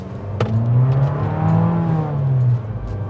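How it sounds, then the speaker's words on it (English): An Abarth 595 Competizione engine revs up and holds a high, smooth roar, then drops away as the revving eases off, loud and close. "It sounds good when it's revving out."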